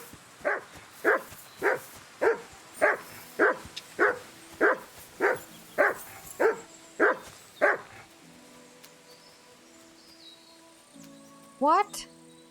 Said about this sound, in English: What was that barking about?